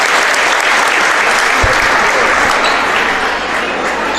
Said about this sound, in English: Everyone here giving Josh Gehring a huge round of applause